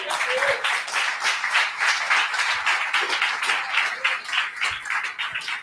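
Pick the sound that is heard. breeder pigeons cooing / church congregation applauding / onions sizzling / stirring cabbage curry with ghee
church congregation applauding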